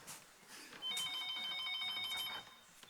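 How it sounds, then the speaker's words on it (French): A telephone rings indoors with a steady electronic trill of bright repeating tones, moderately loud, lasting about a second and a half over faint room noise. "vous entendez le téléphone qui sonne"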